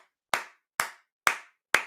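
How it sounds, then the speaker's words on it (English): Four sharp hand claps ring out alone, close and crisp, evenly spaced about half a second apart, each snapping on and fading quickly before the next. "Round of applause."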